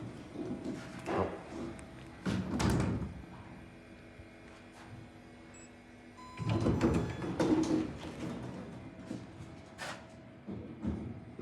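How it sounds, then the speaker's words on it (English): A Kone Ecospace elevator door in a hotel lobby opens and closes, two soft sliding rumbles separated by a quiet pause, with faint clicks and mechanism hum around them. "This is the Salvador Dali elevator"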